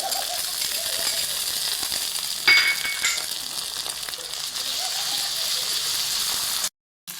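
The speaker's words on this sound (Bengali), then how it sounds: "পেঁয়াজগুলো ভাজার সময় কিন্তু আদা রসুন এসব কিছু দেবেন না, পেঁয়াজগুলো শুধু ভাজতে থাকবেন" Onions fry in oil with bay leaf and whole garam masala spices, giving a continuous soft sizzling hiss with one brief clink partway through.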